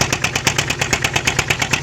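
A motor boat engine runs close by with a steady, rapid pulsing chug that holds an even rhythm throughout.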